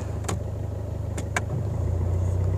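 A first-generation Maruti Suzuki Baleno idles steadily with the air conditioning running, a low continuous engine hum with a few faint clicks, heard close from inside the car.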